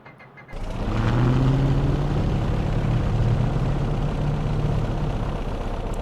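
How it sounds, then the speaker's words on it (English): Left engine of a P-38L Lightning starting in Microsoft Flight Simulator: a sudden catch after a quiet moment, then a loud, steady droning piston rumble settling into a continuous idle. "Start up the left engine."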